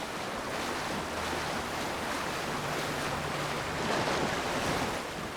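Steady rushing water from a waterfall in the video game Avowed, a broad continuous roar with a faint low hum beneath, holding even throughout with a slight swell near the end.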